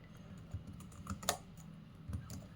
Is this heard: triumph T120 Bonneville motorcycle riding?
no